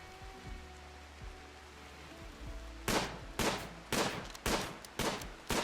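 Rifle gunshots in the video game Rimworld, about six sharp broadband cracks fired in an uneven rhythm over a quiet ambient background with low tonal hum.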